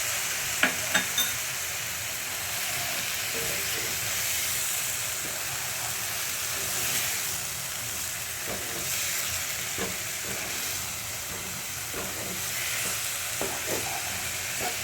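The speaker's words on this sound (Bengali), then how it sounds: "এবার মশলা পেস্টটিকেও দিয়ে দিলাম" Spice paste sizzles steadily in hot oil in a pan while being stirred, for a Bengali potato and pointed gourd curry with prawns. The broad frying hiss is continuous and close, with occasional soft scrapes of the spatula.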